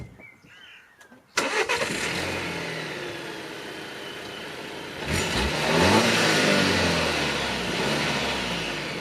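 Volvo V40 engine cranks and catches after a short quiet moment, then settles into a loud steady run before revving up as the car pulls away, heard from inside with no talking.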